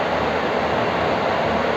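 The rear air-conditioning maintenance compartment of a Harapan Jaya super luxury night bus gives off a steady, loud, broadband whooshing drone, close and constant, with no one speaking.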